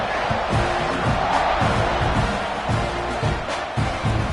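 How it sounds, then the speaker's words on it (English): A stadium crowd roars in a steady, swelling wash of noise at kickoff in a college football video game, Ole Miss against Texas A&M, with a low rhythmic pounding underneath and no clear speech. "You think this crowd's going to get loud when their defense comes on the field?"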